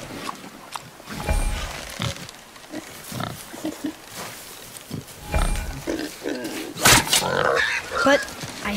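A wild boar in the God of War game gives loud close grunts and snorts in uneven bursts, with footsteps and other game sounds around it and voices talking in between.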